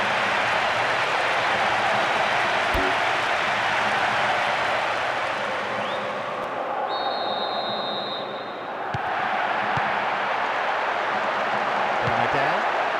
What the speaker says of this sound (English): the goal richly applauded by all corners of the stadium